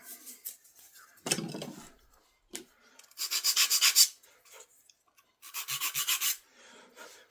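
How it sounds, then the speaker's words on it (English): Ends of a wooden aircraft wing piece being sanded by hand, heard as a few short rasping strokes followed by two longer rhythmic runs of quick back-and-forth scrubbing, close up with quiet pauses between. "I'm going to just sand the ends, just to make the ends a little thinner"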